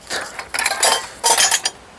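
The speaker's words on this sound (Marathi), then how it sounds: "भांडी वगैरे चांगली काचेचं ग्लास वगैरे आहेत कप आहेत" Dishes, glass tumblers and cups clinking and clattering as they are handled and moved about, a few bright bursts of rattling contact close by, with no talk.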